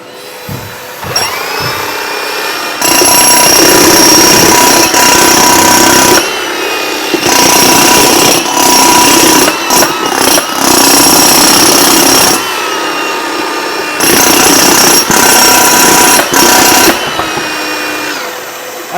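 A Hilti power tool hung from a tool balancer drills into a wall in loud, close bursts of grinding hammer-drill noise. Each burst lasts a few seconds and is separated by short pauses, with the high whine of dust collection running underneath.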